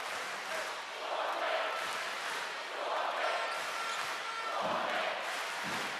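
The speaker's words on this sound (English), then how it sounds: "The chant you're hearing right now from the crowd is Suomi, which in Finnish means Finland." A large arena crowd at a Finland versus Spain basketball game, a 2024 FIBA Olympic qualifying tournament match, chants "Suomi" in rolling, rhythmic swells. The chant is loud and sustained, with each surge repeating every second or two.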